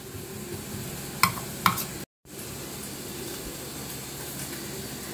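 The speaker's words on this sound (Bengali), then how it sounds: "এই ভাজা চিকেনটার গায়ে কিন্তু ভালো করে মাখিয়ে নিচ্ছি।" Fried chicken being coated with spice paste in a pan gives a soft, low sizzle with a couple of brief scraping clinks of a utensil, steady and fairly quiet throughout.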